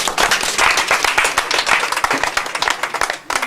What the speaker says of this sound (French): Acclamons pour eux.